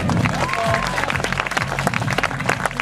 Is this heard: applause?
yes